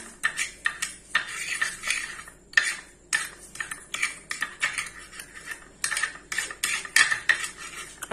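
A spoon clinks and scrapes against a bowl while Maggi masala is stirred into a homemade spice mix for ramen, with quick, repeated metallic taps and scrapes, close and fairly loud, and no talking.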